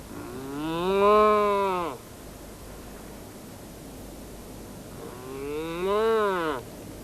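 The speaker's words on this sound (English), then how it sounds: "Noddy, it's only a cow." Outside at night, a cow gives two long, drawn-out moos several seconds apart over a steady background hiss.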